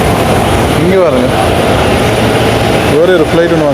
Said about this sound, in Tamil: வேறு ஒரு ஃப்ளைட் ஒன்று வந்துருக்குது.